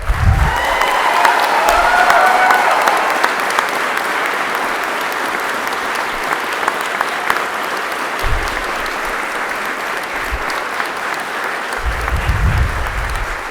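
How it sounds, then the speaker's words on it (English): Audience applauding at a Palm Beach County Sheriff's Office ceremony where a deputy receives the Governor's Medal of Heroism; steady sustained clapping from a large room, slightly swelling early then holding level, with brief low thumps. "Go ahead, you can clap."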